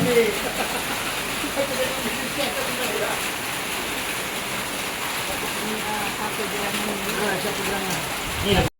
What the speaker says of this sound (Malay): Disebabkan hujan dekat luar